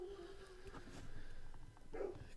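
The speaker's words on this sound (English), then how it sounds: "the dog, if you can hear, is barking" A dog barks faintly in the background, a couple of short whining yips amid a low steady hum, with no talk over it.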